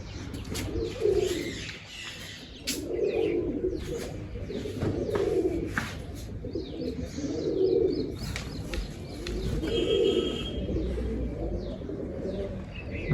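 A pigeon caught in a net coos repeatedly in a slow, steady rhythm, soft and low, with faint chirps and outdoor noise in the background and no talking.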